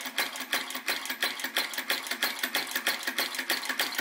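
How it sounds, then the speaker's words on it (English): Flame Licker vacuum crossbeam engine, a Flame Gulper Vacuum Retrol VE-01, running slowly with a steady, evenly spaced mechanical clatter, close and moderately loud with no voices. "I've never had a vacuum engine running that slow ever."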